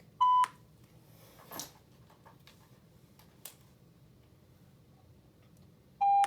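Shot timer for holster draw practice, sounding a sharp electronic beep at the start and another near the end, with a few faint clicks and handling taps in between.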